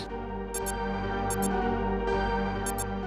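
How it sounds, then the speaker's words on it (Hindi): Short high-pitched beeps in paired bursts repeat about every second and a half, like an alarm clock, over a steady low hum. "ये घड़ी की अलार्म की आवाज है सर"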